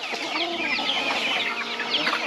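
Broiler chickens cluck and chatter continuously, a dense flock of overlapping calls close by, with no talking.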